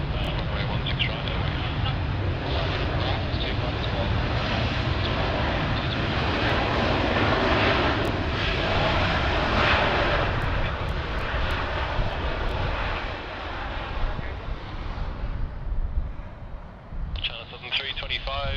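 An airliner rolls for takeoff on Sydney Airport's runway 16 left, a broad sustained jet roar that swells and then fades, with radio talk faint alongside.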